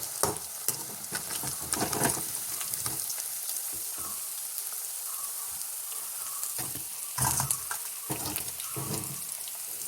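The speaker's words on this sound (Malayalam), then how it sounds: "ഇങ്ങനെ ഇത് മൊത്തം ഇങ്ങനെ വറുത്ത് കോരി എടുക്കണം." Fish fries in oil in a clay pot with curry leaves for Kerala-style fish pickle, giving a steady, close sizzle broken by scraping stirs and brief watery clatters.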